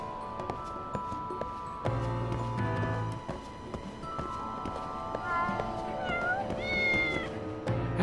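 Cats meow repeatedly in the video game Lost Judgment, several close, clear calls rising and falling in pitch over a busy game backdrop, with rising, drawn-out cries near the end.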